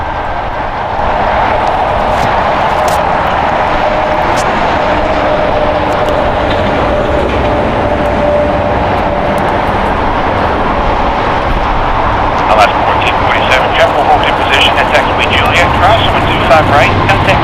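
A heavy Boeing 777 jet departs LAX airport with a loud, sustained broadband roar that swells toward the end, while radio and air traffic control voices talk over it.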